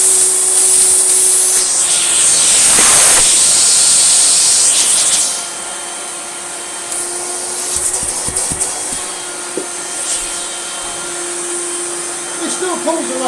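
An orange Hoover Celebrity S3005 vacuum cleaner runs with a steady, loud whine and rushing airflow, its pitch shifting midway as the suction changes, with a few clicks and handling knocks and occasional talk in the background.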